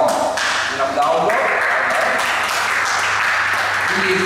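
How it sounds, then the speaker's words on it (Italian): Applause from a crowd at a Miss Trieste calendar event, dense clapping that continues throughout, with a voice speaking over it. "facciamo un applauso"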